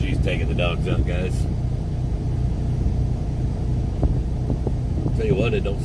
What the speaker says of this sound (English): it don't sound too good with this truck up here